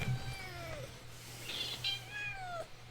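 A cat meows repeatedly in rising and falling cries, fairly close and clear, over a steady low hum with a faint voice in the background.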